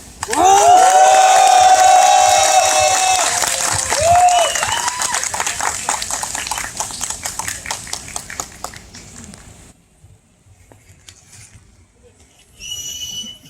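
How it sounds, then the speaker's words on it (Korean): A crowd of striking labor union members at a rally in front of the Justice Ministry cheering loudly with shouts and sustained clapping, the roar swelling then fading into scattered applause before dying away. "힘찬 함성과 박수 부탁드리겠습니다."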